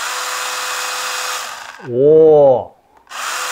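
Makita handheld chainsaw with a 100 mm guide bar briefly spinning up, a short whirring burst of under a second that rises and falls, after a steady background hum; a voice exclaims just before it.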